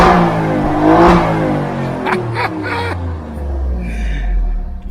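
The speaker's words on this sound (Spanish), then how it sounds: "Antes de ver el motor, vamos a escucharlo. Cambio al modo dinámico." A 2021 Alfa Romeo Giulia QV engine revving in dynamic mode, a close, loud rising growl with a sharp burst of revs and then a deep rumbling settle as the engine eases back.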